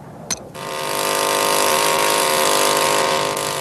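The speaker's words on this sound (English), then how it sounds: "A diamond drill is used to obtain cores of lava." A diamond drill cores undisturbed lava rock, starting with a brief knock and then rising into a steady, loud, high whining grind that holds to the end.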